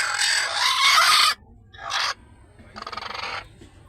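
Domestic country hens in a small coop where they sit on clutches of eggs, giving loud clucking and squawking calls in three separate bursts with short quiet gaps between them.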